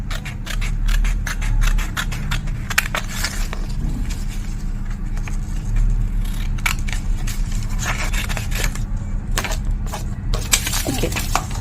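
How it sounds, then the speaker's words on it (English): Scissors snip through a paper net along dotted lines in a rapid series of crisp, close cuts with light paper rustling, alone without talk. "Now I'm going to cut it properly along the dotted lines."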